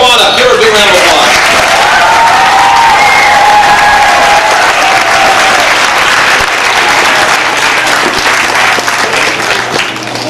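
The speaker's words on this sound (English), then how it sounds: "Give her a big round of applause." An audience of students at a school assembly gives a big, sustained round of applause, loud and close, with some cheering and a few voices over the clapping.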